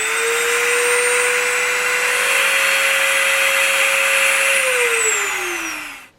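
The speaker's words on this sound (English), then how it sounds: "Let's start with the Dremel first" A Dremel rotary tool runs at maximum speed with a loud, steady high-pitched whine held for about five seconds, then its pitch slides down as it winds toward a stop.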